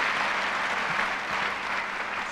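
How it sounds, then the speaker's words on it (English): A crowd at an International Women's Day event gives dense, steady applause for a young student; the clapping is loud and continuous through the brief moment. "a big round of applause for Sitara Brooj Akbar."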